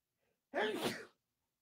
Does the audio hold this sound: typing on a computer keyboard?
no